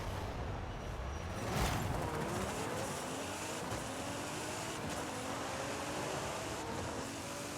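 A 2012 Nissan Skyline GT-R R35 with a drag tune in the Forza Horizon 5 video game, its engine holding a steady, loud, sustained roar with rising tonal sweeps as it pulls through the gears.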